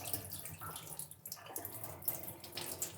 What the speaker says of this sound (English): Best way to rinse your film with the Patterson tank is not to take the top off, but leave the top on and just let it, come out of the vent hole.